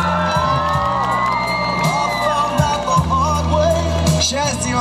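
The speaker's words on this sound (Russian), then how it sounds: "И еще раз ваши овации, бендеры!" A loud crowd at an outdoor Maslenitsa festival concert in Bendery whoops, shouts and cheers continuously over thumping music, with a dense, sustained roar of voices throughout.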